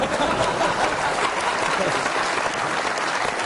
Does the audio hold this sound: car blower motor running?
no